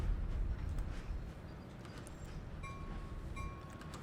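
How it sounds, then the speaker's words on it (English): Commuter train in Train Sim World 2020 on the Peninsula Corridor, stopping at a yard exit: steady rolling rumble and clatter that eases off, with faint metallic clinks and a brief high squeal of brakes near the end. "here we are about ready to stop our train at the yard exit yet again"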